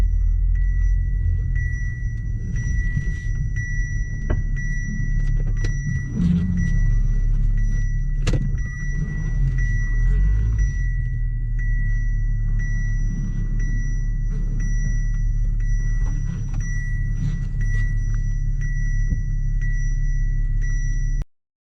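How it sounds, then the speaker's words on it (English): Audi A3 with the VR6 3.2 engine idling rough with a misfire and a crankshaft/camshaft correlation fault, a steady low rumble with uneven pulses that runs for about twenty seconds and cuts off abruptly at the end. "you can feel the engine is not running smooth as it should be. There's a bit of a misfire as well."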